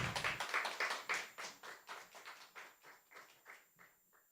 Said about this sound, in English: Let's give a round of applause to Aruni Wijesinghe.